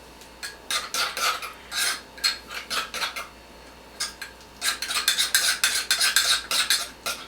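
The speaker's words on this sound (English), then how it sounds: "We're going to give it a little stir." A spoon stirs shrimp cocktail sauce in a bowl, producing close, rhythmic scraping and clinking strokes in bursts, pausing briefly midway before a faster run of stirring.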